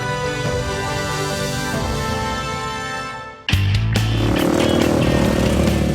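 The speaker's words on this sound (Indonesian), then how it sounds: "Deru suara motor memecah keheningan." Trail motorcycles roar along a beach on Siompu island in South Buton, a loud continuous engine drone that dips briefly and then surges back up louder and rougher, revving up close with no talk.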